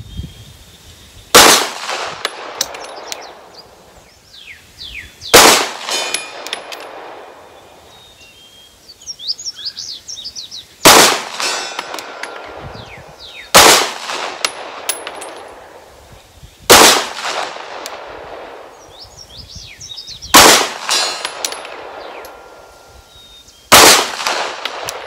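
Polymer 80 pistol fired at an outdoor range toward 100-yard targets, six sharp loud shots spaced several seconds apart, each with a short echo and birds chirping faintly between them.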